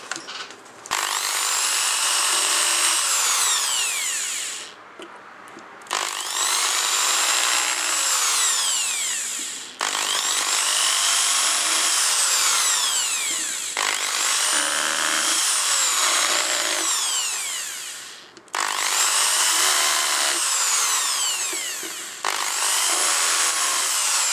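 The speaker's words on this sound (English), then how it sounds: "What we need to do now is just drill out our 6 holes." A power drill whines steadily through wood, drilling screw holes for three-a-side guitar machine heads, in four long, loud bursts, each separated by a short pause, with rising and falling pitch.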